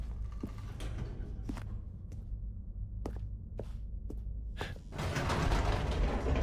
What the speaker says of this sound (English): Goodness, another elevator.